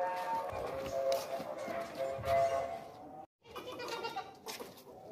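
A fat, heavy, long-eared desi goat offered for sale at a livestock market bleats repeatedly and fairly close, with someone talking over the calls and a brief gap partway through.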